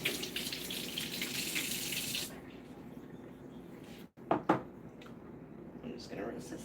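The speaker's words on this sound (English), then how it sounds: "I'm going to take and rinse off my lid" A lid rinsed under a running kitchen tap: a strong gush of water for a couple of seconds, then the flow cuts off, followed by a few sharp clunks and drips and a brief return of softer running water.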